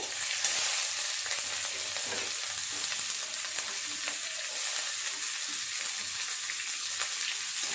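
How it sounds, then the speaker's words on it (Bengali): Chopped onions frying in oil tempered with whole cumin, dried red chilli and bay leaf, a continuous even sizzle with faint crackles and stirring, close and steady with no talking. "পেঁয়াজটা ভালো করে ভেজে নেব নেড়ে চেড়ে।"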